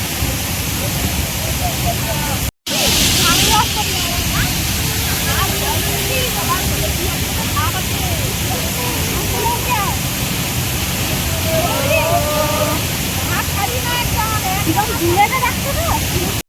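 A waterfall in Odisha roars as a loud, steady broadband rush that stays constant throughout and is broken only by a brief dropout near the start.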